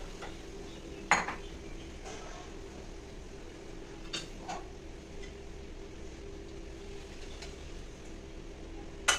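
Parshe fish curry ladled from a pan into a bowl, with a few scattered metallic clinks and scrapes of spoon on cookware over a quiet steady hum in a home kitchen.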